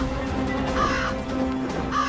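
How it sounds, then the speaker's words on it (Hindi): A crow caws in a scene set in the Ramayana tale, two harsh nasal calls separated by a pause, heard over a continuous low background hum with no speech. "देख बोलने वाला काक"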